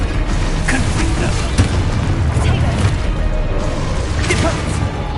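Confringo blasting spell explosions in a Harry Potter video game, heard as a dense, continuous roar of booming bursts with repeated loud hits throughout.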